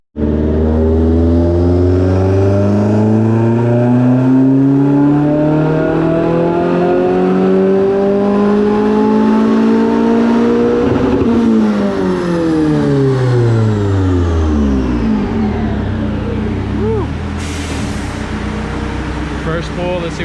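A Subaru WRX engine revs steadily higher under full load for a long pull on a dyno, then drops back down as the revs fall, loud and close.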